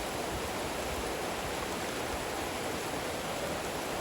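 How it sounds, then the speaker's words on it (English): Water pouring over a small natural waterfall on a trail, a constant broadband rush and hiss that stays even and close throughout, with no voices. "Right here we got like an actual waterfall."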